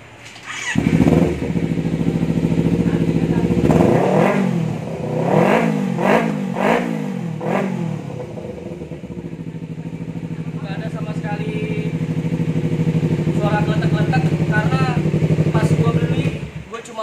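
A 2012 Kawasaki Ninja 250 Fi motorcycle engine idles and revs in several quick bursts, then settles into a steady hum, with a voice talking over it in places.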